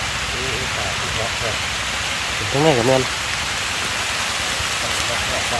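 Rain falls steadily through a forest, a loud continuous hiss throughout, with a person talking briefly partway through.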